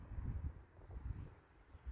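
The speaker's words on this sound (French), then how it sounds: "Il y a un petit peu de vent" Soft, low wind buffeting in uneven gusts, fairly quiet, with no other distinct sounds.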